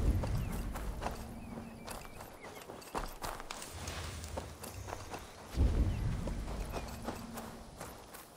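Horse hooves walking in Assassin's Creed Valhalla, a steady clip-clop of footfalls close by over ambient game background, with a heavier thud near the middle.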